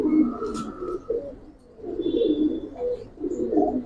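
Silver giribaz and colored pigeons coo in a low, repeated murmur, several soft bursts close by with brief pauses between them, and a faint chirp above.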